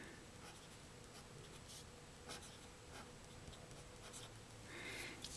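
Pen writing a name on a small note card, quiet scratchy strokes in short bursts against a faint room hiss, close and soft.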